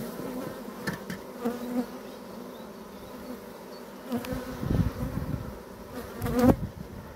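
Honeybees buzz steadily in an open, uninsulated hive during a spring colony inspection, a continuous close hum with a few louder rising bursts as individual bees fly near, no talking.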